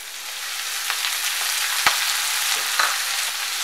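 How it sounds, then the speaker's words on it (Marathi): Fenugreek leaves sizzle steadily in hot oil in a pan over low heat, with a few sharp scrapes and clinks of a spoon stirring. "या भाजीची हलवून घेऊया"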